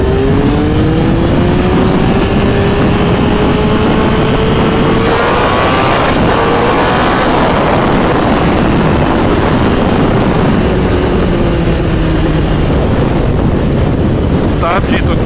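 A Honda CBR 954RR sport motorcycle revs on a ride, its engine tone climbing and falling in repeated sweeps beneath constant heavy wind rush across the microphone.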